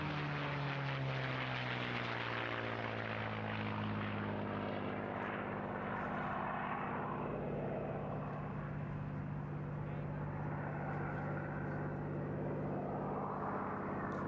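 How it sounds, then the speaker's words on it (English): A P-51 Mustang makes a topside pass at an airshow, its propeller engine droning steadily and loud throughout with a slowly shifting pitch as it passes. "the Mustang is the one probably to have. Lovely topside pass now."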